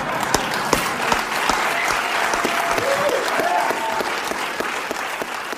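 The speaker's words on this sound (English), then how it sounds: "a big round of applause for Bill Maher on that line" A studio audience claps steadily for Bill Maher after a line on his talk show, dense sustained applause with sharp individual claps standing out near the start, plus a faint tonal sound in the middle.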